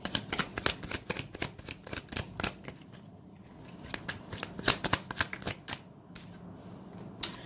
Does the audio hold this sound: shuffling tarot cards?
yes